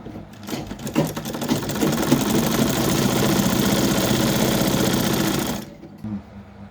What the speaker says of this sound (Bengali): তারপর আমরা এই হাতাটা সেলাই করব